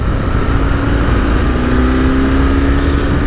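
A BMW R 1150 GS Adventure motorcycle shifts into second gear while riding, its loud, close engine droning steadily throughout with a constant throaty rumble and faint rising tone.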